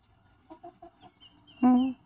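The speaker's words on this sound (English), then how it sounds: "The two chickens left in the coop are chicken." Young chickens about fourteen weeks old outdoors, giving a few soft short clucks followed by one louder, drawn-out call near the end, with quiet gaps between.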